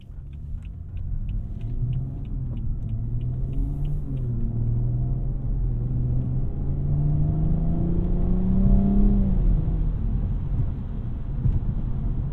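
A tuned BMW 340i xDrive engine accelerates from inside the car, a steady deep rumble rising in pitch through the gears, loud and continuous with no talk.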